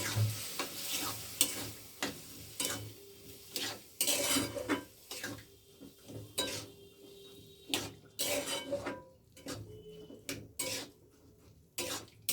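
Tadka is poured into a cooking pot and stirred in, giving a soft sizzle under repeated clinks and scrapes of a metal spoon against the pot, with no talking.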